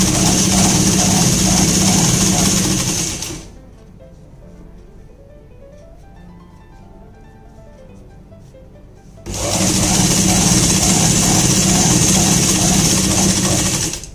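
An electric sewing machine stitches palazzo fabric in two loud, steady runs of rapid whirring, with a quieter pause between them that carries faint handling sounds.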